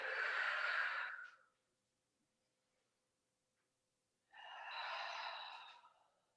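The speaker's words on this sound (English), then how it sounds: "A little bit longer, slower, deeper breaths" Two long, slow, deep breaths during a Pilates stretch, an airy inhale-exhale at the start and another after a quiet pause of about three seconds, each close and moderately loud.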